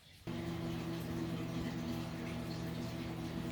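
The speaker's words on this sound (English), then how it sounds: "So now we're just supposed to stick it in the microwave" A microwave oven cooking a rice mug recipe switches on and settles into a steady, quiet, even electric hum that runs unbroken to the end.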